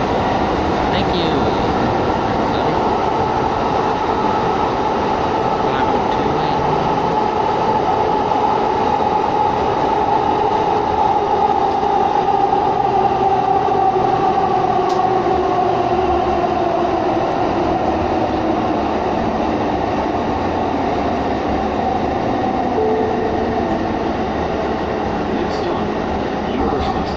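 An Edmonton ETS U2 LRT light rail train on the Capital Line rumbles along the track with a loud, continuous roar, a drawn-out motor whine and occasional wheel clicks and squeals.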